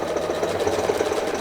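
A sewing machine runs a steady zigzag quilting stitch along a quilt's binding edge, a continuous close mechanical whir with a fast even rhythm and no voices.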